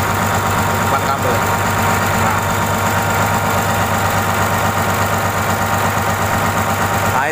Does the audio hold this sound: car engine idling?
yes